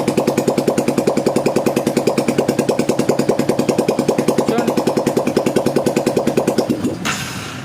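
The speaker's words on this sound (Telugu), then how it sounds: "ఇప్పుడు మనం మళ్ళీ బండి స్టార్ట్ చేద్దాం." A Hero Honda Karizma motorcycle engine runs with a steady, rapid, loud throbbing beat close by, then abruptly cuts out near the end.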